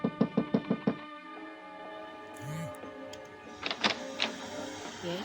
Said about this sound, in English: then I knocked on her door